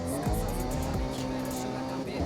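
Tires squeal as a car drifts in the Forza Horizon racing game, the engine droning steadily with pitch sweeps as it slides, loud and close throughout.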